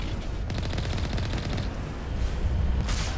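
Rapid automatic gunfire from Mass Effect 1 rattles in a steady stream of evenly spaced shots, fairly loud and alone, with a brief pause before the firing resumes.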